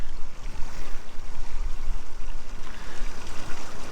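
Water gushes steadily from an opened trailer water line as it drains during winterizing, a loud continuous rushing splash with no talk.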